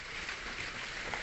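Steady rain patters on a surface, a soft constant hiss with no one speaking.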